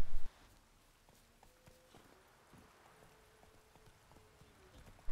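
Horse hooves clip-clop at an easy walking pace in the video game The Witcher 3: Wild Hunt, a quiet, regular series of soft thuds with faint tonal game ambience between louder bursts at the start and end.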